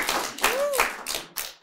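Audience clapping at a gathering honouring ministers of God, a few short bursts of hand claps close by, interrupted by a voice.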